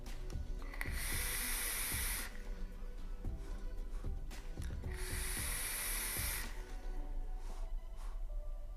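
Two long airy draws on a Solomon 2 RTA vape at 60 watts, each a steady rushing hiss that builds in, holds for about a second and a half, then cuts off, with faint clicks and handling between and no talk.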